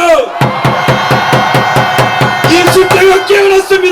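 A large crowd at a political rally in Daegu roars a loud, sustained shout, with rhythmic clapping pulses underneath and a loudspeaker voice breaking in near the end.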